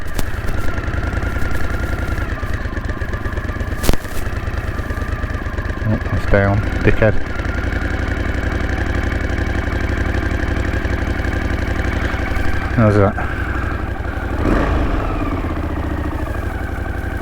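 A 1981 Honda CX500 motorcycle engine idles steadily with a low, even burble throughout, a few brief mechanical clicks and a thump over it, while someone talks briefly nearby.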